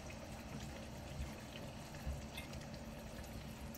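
Risotto made with celeriac and March mushrooms simmering gently after being deglazed with white wine, a steady low bubbling and soft sizzle held at an even level throughout, quiet and without talk.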